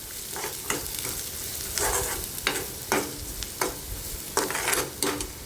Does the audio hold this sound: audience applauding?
no